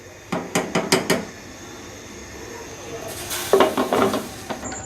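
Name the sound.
putting the weight on a pressure cooker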